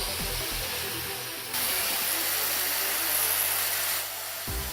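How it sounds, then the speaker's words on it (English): A 220-volt, 800-watt angle grinder runs on a homemade generator, producing a steady whirring drone that shifts pitch and grows louder partway through, then eases back near the end. "We're also going to connect an angle grinder that operates at 220 volts"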